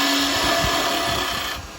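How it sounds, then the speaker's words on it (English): A wood lathe spins a workpiece while a finger gouge cuts it, giving a steady broadband whirring and scraping hum that holds loud and close throughout before easing slightly at the end. "quickest way to get rid of that is with the finger gouge"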